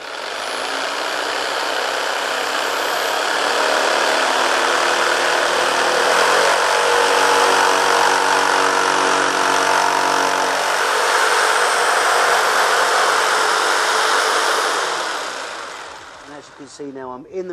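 A Black & Decker KS900EKX jigsaw whines steadily for a long stretch, loud and close, its pitch shifting slightly as it plunge-cuts into material without a pilot hole before winding down.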